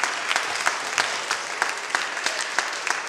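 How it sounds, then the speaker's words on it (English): An audience at a school geography bee claps in a brief burst of applause, individual claps audible in a lively, even patter. "give him a round of applause"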